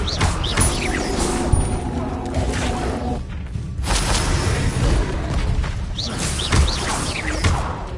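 The Confringo fire blast spell in the video game Hogwarts Legacy: loud, continuous crackling and whooshing bursts with deep booming impacts, briefly dropping away midway before surging again.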